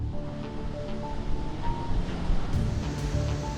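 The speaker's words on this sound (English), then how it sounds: "One such test is the water deluge system test done at the Launchpad." A rocket launchpad's water deluge system sends a heavy, continuous roar of rushing water across the mobile launch platform and flame deflector, a broad wash of noise much like surf mixed with wind.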